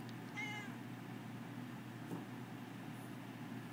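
A domestic cat gives one short meow near the start, fairly close but soft, followed by quiet room tone with a faint click or two.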